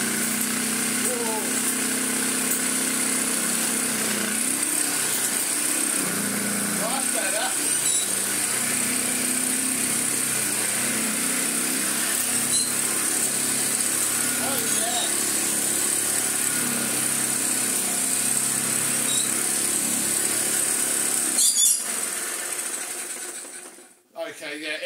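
A restored 1930s Hoover 825 antique vacuum cleaner motor runs with a steady, continuous whir at close range, holding level for about twenty seconds before cutting off near the end, with faint voices in the background.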